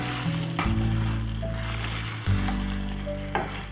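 Masala paste mixed into chicken in a hot pan for a restaurant-style chicken gravy, a steady close sizzle broken by a few scraping stirs, with faint tonal hum underneath and no talking.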